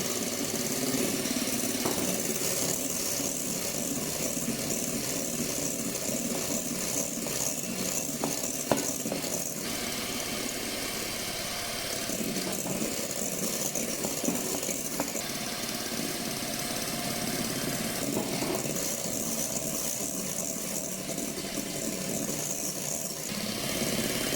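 An electric mixer whips egg whites for a chocolate charlotte as sugar is added in stages. It makes a loud, steady, close whir that shifts in tone a few times, with no voices.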